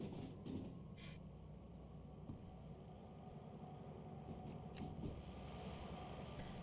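A diesel locomotive rumbles steadily in the Derail Valley train simulator, a continuous low engine drone with a few faint high-pitched clicks and squeaks over it, no talk.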